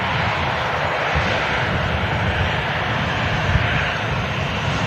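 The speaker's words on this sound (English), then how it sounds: "KLM 73 just passing by us now" A KLM aircraft at Manchester Airport passes close by with a loud, steady engine roar that stays broad and constant throughout, with no voices over it.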